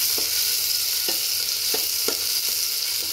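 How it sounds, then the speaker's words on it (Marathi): Onion sautéing in hot oil: a continuous close sizzle with soft, regular scraping clicks from stirring about every half second, and no voices. "आणि आता कांदा परतून घेऊ."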